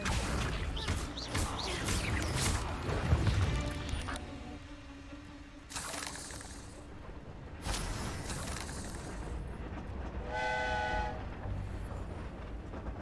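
A train in the video game Hogwarts Legacy rolls past with a rumbling, clattering body, then blows its horn twice in short separated blasts, the second clear and tonal, heard alone without talk.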